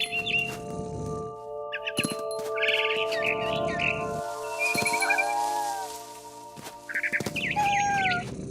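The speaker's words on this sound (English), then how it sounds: "Then I heard chirping outside my window. It was a barn swallow going back to her nest." Barn swallow chirps and tweets in the game What Remains of Edith Finch, repeated bursts of high calls over a steady ambient drone and low rumble, fairly close and clear with no talking.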